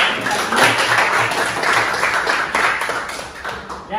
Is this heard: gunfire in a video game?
no